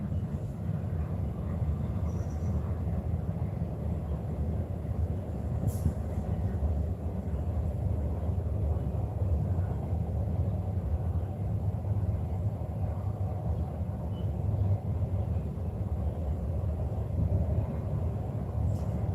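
A train passing nearby, a steady low rumble with faint rattling that holds at an even level for the whole stretch, heard alone without talk.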